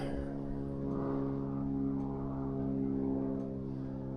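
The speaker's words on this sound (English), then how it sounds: "Airplane passing over." A propeller airplane passes overhead above woodland where trail cameras are being set up, giving a steady, faint droning hum that holds throughout.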